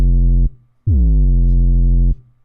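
Boomy, distorted sub bass from a horror-style hard trap beat: two loud deep notes heard alone, a short one followed after a brief gap by a longer sustained one with a gritty harmonic edge.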